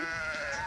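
A single short goat bleat, wavering and fairly clear, cuts through soft outdoor background in a summer mountain pasture in the Almaty region.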